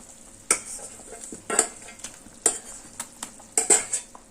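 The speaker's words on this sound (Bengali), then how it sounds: "এবার আগে থেকে ভেজে রাখা মাছ দিয়ে দিচ্ছি।" Pre-fried rohu fish belly pieces dropped into a simmering papaya and potato curry, with a soft bubbling sizzle and several sharp clinks of a utensil against the pot, no voices.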